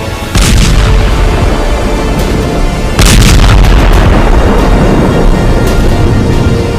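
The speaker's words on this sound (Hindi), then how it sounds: "हिजबुल्लाह के रॉकेट धमाके हाइफा में हाहाकार मचा रहे हैं।" Hezbollah rocket explosions in Haifa boom out, one near the start and another midway, each followed by a heavy rumbling roar and scattered cracking bursts.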